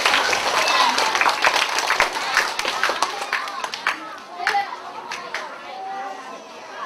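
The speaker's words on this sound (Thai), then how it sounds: "ขอเสียงปรบมือ เป็นกำลังใจให้" Children in a school library clap after a story reading, a lively burst of scattered hand claps that thins into sparser individual claps amid chatter and voices.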